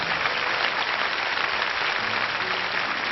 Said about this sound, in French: je pense qu'on va applaudir le jury